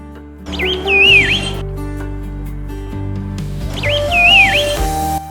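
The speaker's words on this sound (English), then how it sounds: "The frenzied symphony of chirps now had a face, several, in fact." Black-faced laughing thrushes in East Sikkim chirping and whistling while pecking at discarded scraps, two bursts of clear, loud, warbling calls over a steady low hum.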